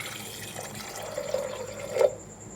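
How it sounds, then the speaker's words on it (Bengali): Water pours into a pressure cooker for a chickpea and paneer dal, a soft steady trickle rising to a brief louder splash near the end, close by and with no talking. "প্রেসার কুকারে। দিয়ে দিচ্ছি জল"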